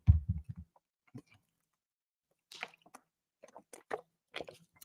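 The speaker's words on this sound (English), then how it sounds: "let me drink some water" Someone drinks water up close: a quick run of soft gulping swallows at the start, then a pause and scattered faint wet mouth clicks and smacks.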